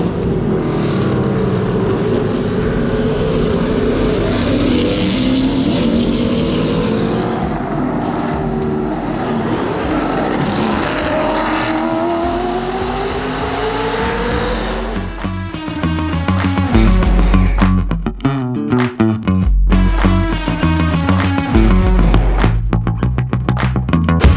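Loud roaring engines of historic NASCAR race cars at Virginia International Raceway sweep past one after another, rising and falling in pitch, with a dense rush of several cars near the end.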